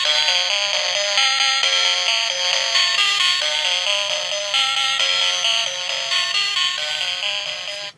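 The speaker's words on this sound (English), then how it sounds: "this is the first time we'll ever hear this plush play its music" A Donkey Kong plush toy plays its built-in electronic melody, a bright, tinny chiming tune with steady stepping notes, loud and close, running continuously without talk before cutting off abruptly at the end.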